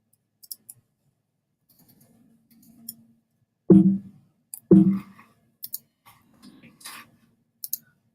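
A computer mouse gives a handful of sharp, close clicks, including a couple of louder quick pairs, with small ticks scattered between them in an otherwise quiet room.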